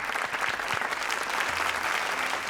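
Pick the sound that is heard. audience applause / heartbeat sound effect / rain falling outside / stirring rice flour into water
audience applause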